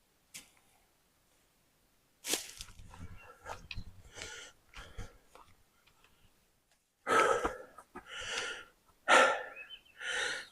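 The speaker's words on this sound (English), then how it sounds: "I think they can hear me heavy breathing as I hike." Heavy, ragged breaths from a hiker climbing uphill on a training walk come close to the microphone, starting faint and building to loud, labored gasps and puffs near the end.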